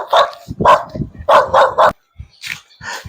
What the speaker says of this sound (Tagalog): Ayan, tinatahulan pa tayo ng doggy dito.